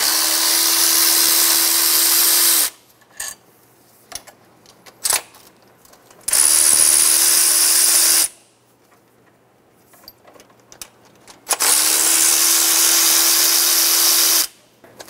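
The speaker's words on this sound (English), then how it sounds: "We're going to remove the two 12mm bolts and the two 12mm nuts for the throttle body." A power ratchet or drill runs in three steady bursts of a few seconds each, close and loud, removing 12mm bolts and nuts from a Toyota Tundra throttle body, with quiet pauses between.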